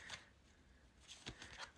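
Tarot cards are shuffled by hand in a few quick riffling bursts, soft and close with brief pauses between, in a quiet room.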